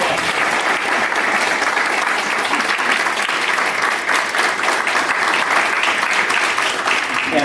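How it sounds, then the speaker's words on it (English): Audience applause fills a birthday tribute to Kathy, a steady, dense roar of clapping from a sizable crowd lasting throughout without pause. "So please, everybody, give an applause to Kathy."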